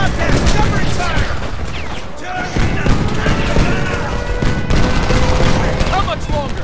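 Rapid, continuous gunfire crackles in the video game Homefront, close bursts of automatic fire mixed with shouted voices and battle noise throughout.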